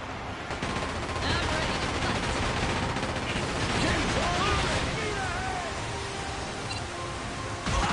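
Dense, continuous booming and crackling ship cannon fire in the video game Like a Dragon: Pirate Yakuza in Hawaii fills the scene, with chaotic battle noise and faint voices mixed underneath throughout.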